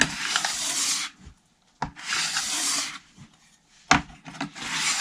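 Metal scraper dragged over a waxed splitboard base, loud close rasping strokes in three long passes separated by short pauses and sharp knocks, with no talking.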